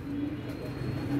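Pigeons coo in soft, low, steady tones close by, a continuous murmur with a hint of faint hum beneath over a little over a second.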